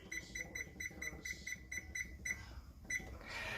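Kitchen timer on a home brewing setup beeping in quick repeated short chirps as buttons are pressed, faint and close, with a brief pause before the last beeps.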